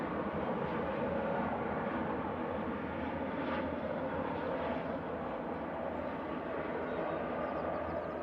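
A Boeing 737 MAX 8-200 airliner at Manchester Airport produces a faint, distant, steady engine drone that holds evenly throughout, with no talking.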